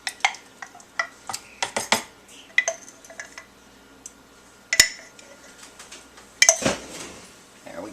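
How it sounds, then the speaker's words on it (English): A fork clinks and scrapes against a bowl while mixing thick yogurt, giving a run of sharp clicks, taps and stirring scrapes of varied loudness, close up. "we'll once again use the fork to mix it up so that we can get it all creamy"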